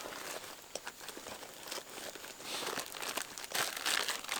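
A Ziploc plastic bag holding first aid supplies crinkles up close as it is handled, giving irregular crackling bursts that grow busier and louder toward the end, with no talking.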